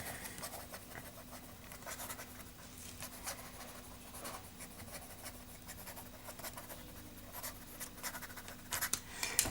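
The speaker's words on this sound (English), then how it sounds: "Okay, fast writing." Ballpoint jotter pen writing quickly on paper, a steady close-up scratching and scribbling with short strokes throughout, no voices.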